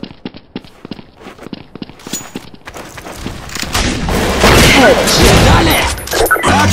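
Gunfire in Counter-Strike Source, a burst of rapid shots and booming blasts that grows denser and louder over the second half, preceded by quicker clicky impacts and footstep-like taps.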